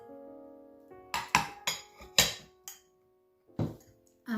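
Ceramic bowls and plates knocking together while taken out of packaging, several sharp ringing clinks and taps at irregular intervals, close and clear in an otherwise quiet room.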